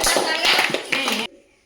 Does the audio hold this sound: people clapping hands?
yes